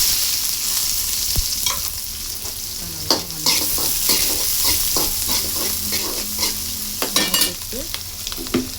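Mustard seeds and onion fry in hot oil for a chickpea sundal kuzhambu, a steady close sizzle with scattered sharp pops and crackles and an occasional scrape of stirring.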